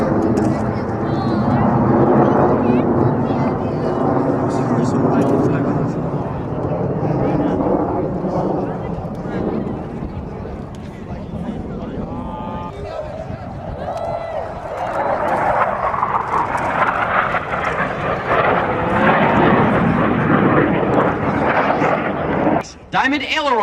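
U.S. Navy Blue Angels jets fly a tight diamond formation at the 1997 MCAS El Toro Air Show. A continuous, loud jet roar swells and fades as the aircraft pass, heard under ongoing talk throughout.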